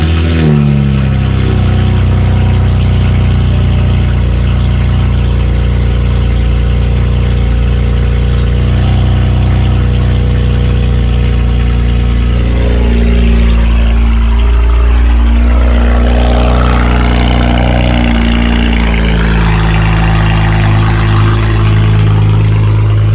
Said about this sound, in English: It's always been loud, but once it warms up, the idle settles down a bit and it sounds good.